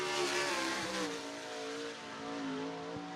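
A 360 sprint car howls past during qualifying at Cottage Grove Speedway, its engine note loud and close with pitch sweeping as it races by, the sound fading slightly toward the end.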